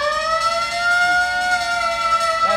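Fire alarm siren effect in a music room of a car and music collection, a steady sustained wailing tone held alone and fairly loud, ending with a brief clatter.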